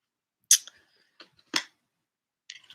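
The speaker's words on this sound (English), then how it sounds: "I'm just going to shuffle here a couple times." Oracle cards riffled by hand in a few short, crisp bursts of papery flutter, close and fairly quiet, separated by brief pauses.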